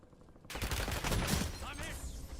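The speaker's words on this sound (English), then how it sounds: "Incoming shots." Gunfire in a video game breaks out suddenly as a loud, dense burst of rapid shots with sharp cracks, continuing over a couple of seconds amid clattering game effects.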